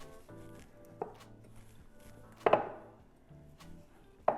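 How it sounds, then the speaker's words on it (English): A hand potato masher pressing down on Hawaiian rolls in a casserole dish, giving three soft thuds spaced over a few seconds with quiet handling noise between, close and alone. "A potato, a hand potato masher. Let's try that."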